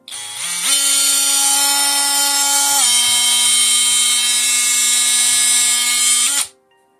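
DeWalt DCS356 Type 2 cordless oscillating multitool runs steadily at a high, whining buzz, with its pitch stepping up at startup and shifting once as the variable speed changes, then cutting off; no talk.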